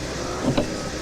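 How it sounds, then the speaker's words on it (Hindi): A car's power window whirs open briefly, a short soft motor hum heard up close inside the vehicle. "खिड़की खुल गई"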